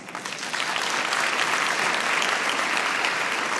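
Dense audience applause fills a gala hall, rising after a brief start and holding steady and loud as a continuous wash of many hands clapping.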